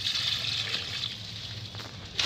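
Water is poured onto a potted hibiscus plant on a terrace, a steady close trickling and splashing that swells slightly near the end.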